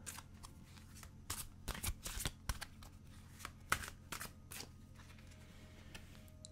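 Tarot cards are riffled and shuffled close by, with quick papery flutters and snapping slaps in uneven bursts, followed by softer sliding as cards are drawn.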